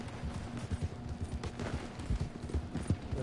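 A horse's hooves clip-clopping in a quick, rhythmic trot, quiet and somewhat distant, with faint background noise and no clear talking.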